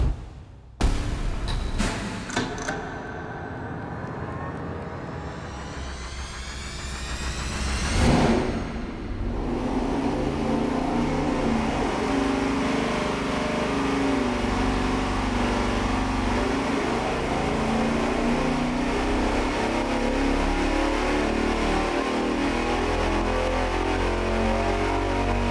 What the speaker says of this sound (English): So we're gonna pull it now and hopefully it makes a ton more naturally aspirated power